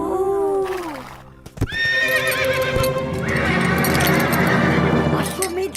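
A horse whinnies loudly in a descending neigh, followed by hoof clip-clop and further equine calls, with background score and mixed sounds layered underneath.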